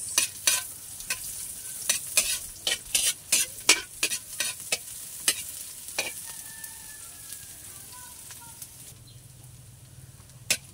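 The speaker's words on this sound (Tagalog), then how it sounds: "Luya and bawang. Lagyan na natin yung sibuyas." Onion, ginger and garlic fry in a pan with a soft sizzle while a utensil clacks and scrapes in irregular sharp strikes, close by, fading to a quieter sizzle toward the end.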